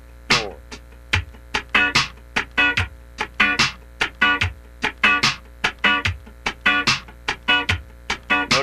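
Funk rhythm guitar with muted chord stabs landing on the fourth sixteenth, short percussive scratches in a quick syncopated groove, close and dry over a faint hum, no voices.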